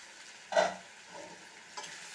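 Ridge gourd being stirred and sautéed in a pan gives a faint scrape of the spoon followed by a quiet sizzle, then a second light stir near the end.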